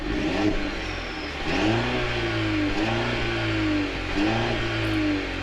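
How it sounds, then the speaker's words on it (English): A 2023 Mercedes-Benz GLC 300 4Matic's small engine revs up in park and settles several times in a row, a close, steady rise-and-fall drone with no talking. "Rev the engine again."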